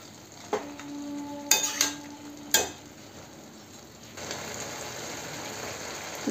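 Fish-head chhechra curry cooking in a pan, a few sharp clinks and scrapes of stirring over a low sizzle that grows steadier and louder toward the end.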